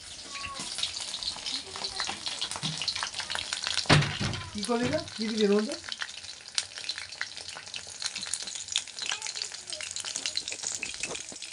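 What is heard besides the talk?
pakoras frying in oil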